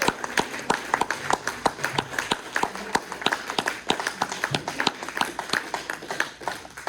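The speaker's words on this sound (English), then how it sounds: "join me in giving a round of good applause to Michael and Pat" A small audience claps for two presenters at the close of a question session, with distinct, fairly regular claps close by and no voices over them.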